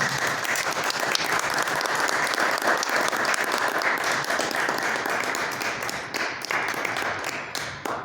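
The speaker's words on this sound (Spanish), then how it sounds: "Un aplauso para nuestro invitado." Sustained audience applause for an invited guest at a book presentation, a dense steady wash of many hands clapping throughout, loud and close, tapering slightly near the end.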